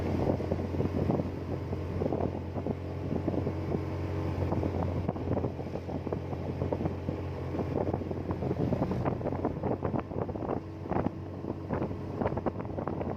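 A motorcycle strains uphill on a mountain road toward Mount Papandayan in Indonesia, its labored engine droning steadily beneath heavy wind buffeting on the microphone.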